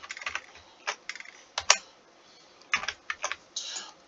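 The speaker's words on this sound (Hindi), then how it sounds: "मैं यहाँ पे नेम जॉन लिख देता हूँ।" Short bursts of computer keyboard typing as code is entered, crisp close keystrokes in small clusters separated by brief pauses, with no talking.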